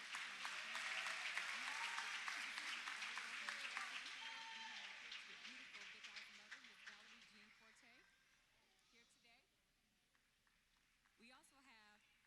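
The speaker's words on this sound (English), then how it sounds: "Everyone, please give a round of applause for Courtney Dempsey and Big Al's mother" Applause for Courtney Dempsey and Mrs. Valerie Forte at a community gathering, clapping that is fairly strong at first, fades over several seconds and dies away while voices carry on.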